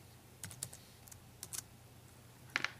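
Quiet keystrokes on a computer keyboard come in short irregular clusters of taps, close but faint, with no talking.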